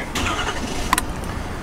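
A diesel pickup truck engine cranking and catching, one of the 2018 Ford F250, Silverado or RAM heavy-duty trucks, heard close as a brief start burst settling into a steady rumble.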